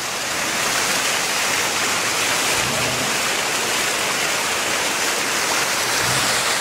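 Water bubbling and gushing up from the Ashland geyser in Pennsylvania, a steady loud churning rush with no clear pauses, heard close and alone.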